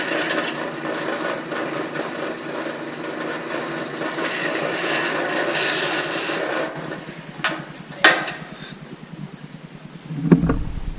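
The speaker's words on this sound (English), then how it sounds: "Drill a pilot." A power drill bores a pilot hole into metal held in a vise, giving a steady high whirring grind that runs for several seconds, then slows into a few scrapes and knocks. The sound is close and loud, with no talking.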